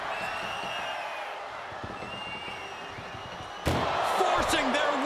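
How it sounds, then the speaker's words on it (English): A sharp metallic slam of an ambulance door rings out during an Undertaker versus Triple H ambulance match in a wrestling video game, over crowd noise, followed by louder clattering activity. "Trying to at least slam one door shut."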